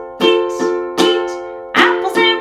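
Ukulele strummed in a down-up pattern for a simple children's song, with five bright chord strokes in an uneven, lilting rhythm, close and clear with no talking.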